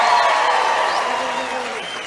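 Audience applause fills a comedy club set by a Texas-born comedian, a steady wash of clapping that slowly tapers off over about two seconds.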